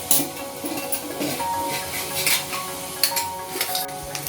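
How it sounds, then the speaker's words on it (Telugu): Tempering spices crackle in hot oil in a pan for gongura soup, with steady sizzling, scattered pops and metal utensil clinks against the pan, close by and without speech. "చూసారు కదా అలా టప్ టప్ అంటే ఎంత చక్కగా వేగుతున్నాయి"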